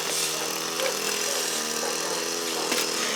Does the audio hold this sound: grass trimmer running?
yes